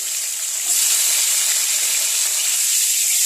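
Potato pieces coated in turmeric and salt frying in oil in a kadai, giving a steady, loud, close hissing sizzle that swells a moment in and then holds without talk.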